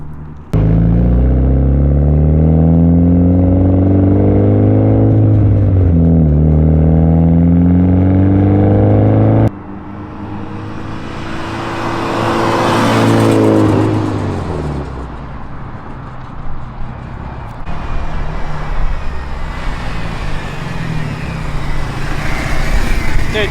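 A Mitsubishi Evo wagon build out on its first drive: a steady, droning engine note holds for several seconds, then a louder rushing surge of revving and road noise swells and lingers.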